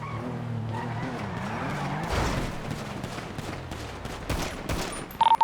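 Rapid gunfire bursts in a police video game firefight, a dense fusillade of shots building after a couple of seconds amid game sounds, with sharp loud cracks near the end.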